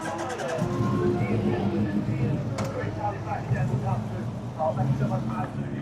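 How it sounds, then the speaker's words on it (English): Small buggies and mini trucks tear around a field at a Castle Combe autumn action day, with a continuous engine drone and rising revs carrying on throughout, and voices talking over the motors. "these little like buggies go absolutely tearing around in the field"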